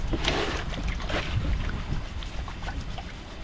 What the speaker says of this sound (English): What a windy day out here.